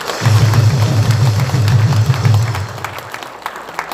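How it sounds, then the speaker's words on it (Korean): Crowd applause at a political rally, a broad wash of many hands with a low rhythmic pulse beneath it for about two and a half seconds before it thins out. "박수 한번 주십시오"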